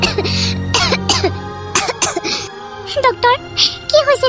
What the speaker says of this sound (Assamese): এনেকৈ কাহোঁতে কাহোঁতে তেজ ওলাইছে যে।